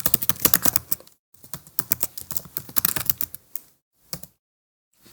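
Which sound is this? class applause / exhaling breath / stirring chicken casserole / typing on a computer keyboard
typing on a computer keyboard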